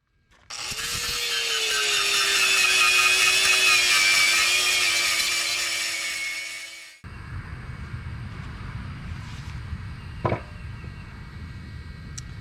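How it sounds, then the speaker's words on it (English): A power grinder whines loudly and steadily for about six seconds as it grinds down the metal of a homemade disc cooker (skottle or discada). It then cuts out, leaving quieter shop noise and one sharp metallic clank. "Let's grind that down, see what it looks like."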